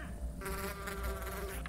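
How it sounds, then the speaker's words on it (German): Minecraft bees buzz in a steady, thin drone that hums continuously under faint background noise. "ja, die Bienen"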